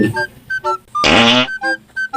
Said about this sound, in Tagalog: At ang lakas rin ang utot mo